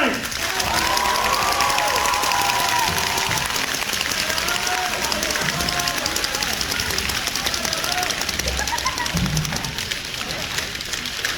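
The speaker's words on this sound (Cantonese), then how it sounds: "掌聲鼓勵" An audience at an improv theatre show applauds, a loud, dense and continuous wash of clapping that lasts the whole time, with voices mixed in.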